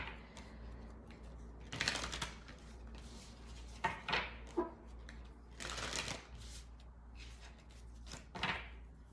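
A Moonology oracle card deck being shuffled, several bursts of fluttering, riffling card noise with quieter handling between them, close but low in level, with no talking.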